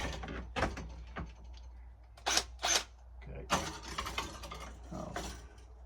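Screws are driven into wood at a camp being readied for winter, heard as a few short, loud mechanical whirring bursts separated by pauses over a low background rumble.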